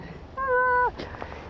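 A cat gives a single clear meow, loud and close, holding a steady drawn-out tone before dropping off, with faint room noise afterward.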